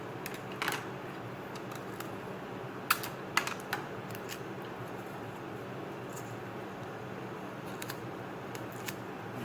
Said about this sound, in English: And now cut it about in half.